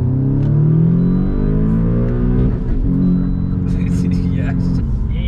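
Audi S3 8V with a modified, higher-flow exhaust revving, deep droning harmonics that rise, fall and rise again, close and loud, with brief higher sounds near the end.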